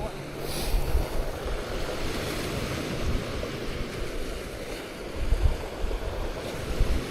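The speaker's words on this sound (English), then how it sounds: "you could hear the rocks like tumbling back and forth" Waves wash against a rocky lake shore in Scarborough, a steady rushing surf with surges, under heavy wind buffeting the microphone.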